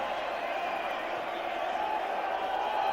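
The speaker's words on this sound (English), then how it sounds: "the crowd that stayed back after Tendulkar's dismissal is enjoying it" A cricket crowd at a Test match in Mohali between India and Pakistan cheers and murmurs steadily after boundaries, a broad, continuous wash of distant voices with no single standout shout.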